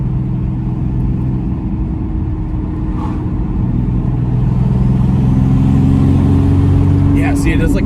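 A turbocharged V6 Mustang accelerates hard with a loud, close, sustained engine drone that rises in pitch, showing a rough, stuttering breakup as boost builds, with a brief faint click near the end.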